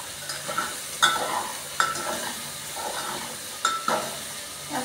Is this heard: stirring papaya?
yes